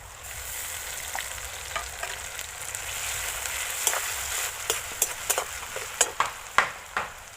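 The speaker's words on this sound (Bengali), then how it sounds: "এবারে রসুন দিয়ে দিচ্ছি রসুন বাটা" Garlic paste goes into onions frying in mustard oil in a wok, producing a constant close sizzle, with sharp spatula scrapes and clatters growing louder and more frequent toward the end.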